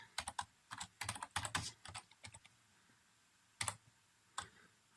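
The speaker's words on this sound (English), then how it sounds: "since I'm only typing with one hand" Typing on a computer keyboard with one hand, close, quick clusters of clicking keystrokes separated by short pauses.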